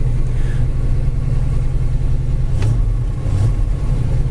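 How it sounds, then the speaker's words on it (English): A 1971 Ford Mustang Mach 1 with a 351 engine idles steadily close by, a low rumbling hum with a brief faint tick partway through, no talking. "Idles nice, sits here and idles the whole time."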